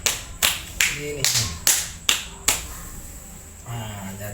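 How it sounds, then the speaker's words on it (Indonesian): Hands slapping the body during a slow self-massage give seven evenly spaced soft pats, each about half a second apart, close and clear, followed by quiet with a brief spoken word. "Terus ini ditepuk-tepuk begini teman-teman, pelan-pelan saja"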